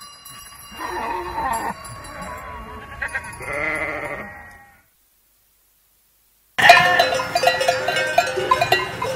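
Ewes penned for the night in a mountain pasture bleat in a few separate calls with a bell clinking, then a silent gap before a louder burst of bleating and bells from the flock.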